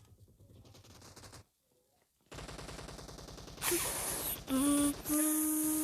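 Gunfire in the PUBG battle game: rapid bursts of automatic shots, a short silence, then more sustained firing that turns louder and sharper near the end.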